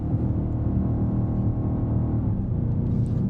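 A BMW engine pulls hard under acceleration, a loud, dense low rumble with a steady rising drone filling the cabin, heard close and alone without talk.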